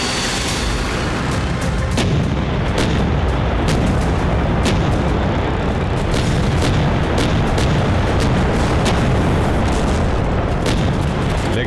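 K9 Vajra self-propelled artillery guns fire repeatedly, sharp booms landing over a dense, continuous roar of battlefield noise. The sound stays loud and steady throughout, with no voices.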